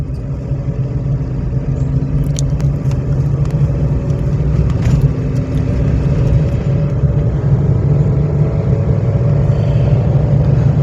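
A car being driven during a driving lesson with clutch and gear changes: a steady, loud low engine rumble holds throughout with slight rises as it accelerates, and no talking is heard.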